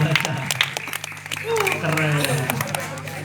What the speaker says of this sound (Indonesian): Tepuk tangan lu dong, yang bisa baca.